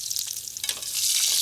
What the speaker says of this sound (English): We've seared this meat just to give it a little depth of flavor.